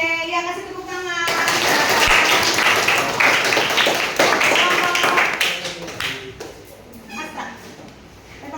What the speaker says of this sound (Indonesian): Oke, ya kasih tepuk tangan